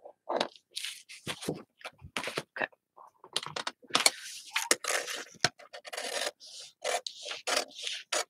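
Scissors cutting paper to make an envelope from a map, a close series of crisp snips and rustles in short irregular bursts.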